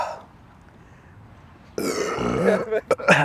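A loud, guttural burp erupts close to the microphone after chugging a drink, following a quiet stretch, then a few short throaty sounds.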